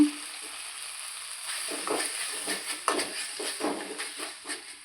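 Ginger garlic paste frying in a pan of oil over softened tomato, with a steady close sizzle and rhythmic scraping stir strokes on top.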